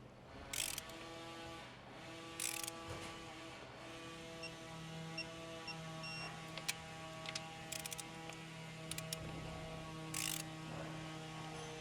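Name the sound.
digital torque wrench tightening intake bolts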